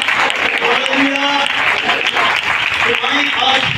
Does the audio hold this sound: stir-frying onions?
no